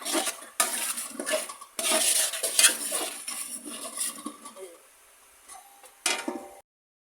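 Spoon scraping and clinking in a pot as mutton is stirred with sour yogurt for biryani; irregular metallic scrapes and knocks in short bursts, close by, with pauses between strokes.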